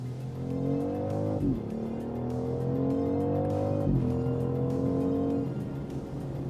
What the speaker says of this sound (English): Oh my goodness, that transmission is so quick. Downshift. Another downshift.